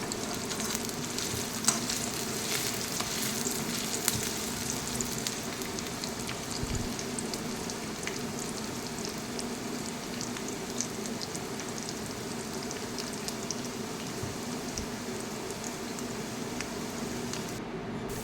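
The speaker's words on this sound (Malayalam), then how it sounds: "അതിലേക്ക് ചെറിയ ഉള്ളി അരിഞ്ഞതും കറിവേപ്പിലയും ഇട്ട് നമുക്ക് മൂപ്പിച്ചെടുക്കാം" Chopped shallots and curry leaves fry in coconut oil, giving a steady, dense sizzle with light crackles that holds evenly throughout, close and fairly loud with no talking.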